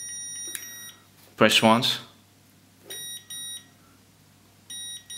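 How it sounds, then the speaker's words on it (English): A FatShark head tracker pairing with an MX-16 transmitter sounds short, bright electronic beeps in several separated bursts, clear and close, with someone briefly speaking between them. "You have all kinds of beeps,"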